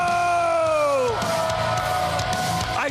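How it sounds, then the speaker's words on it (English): At a Mohegan Sun BKFC fight night weigh-in show, a crowd roars with loud sustained whoops, yells and cheering that swell and hold, near and boisterous throughout. "I want you to meet the crowd because they're always pretty loud."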